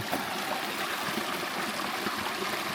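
Water runs and splashes steadily while someone washes their face outdoors in rural Laos, a constant close rush with no talking.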